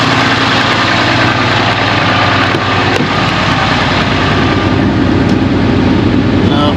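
A Ram Cummins diesel truck engine idles loudly and close by with a steady low rumble and even vibration that hardly changes throughout, heard alone on a cold day.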